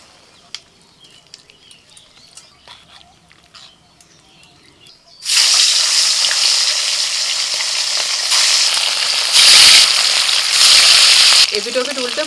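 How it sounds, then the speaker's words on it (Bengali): Fish sizzling loudly in hot oil while being fried red on both sides for a fish curry, a steady crackling hiss that starts abruptly after quiet kitchen sounds and flares louder at moments. "এপিট ওপিট উল্টে মাছগুলোকে একটু লাল করে ভেজে তুলে নিচ্ছি"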